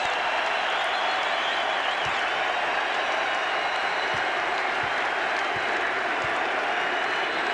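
Basketball crowd at a 2001 Eastern Conference semifinal between the Philadelphia 76ers and Toronto Raptors, on its feet giving Allen Iverson a loud, sustained ovation, steady applause and cheering filling the arena throughout.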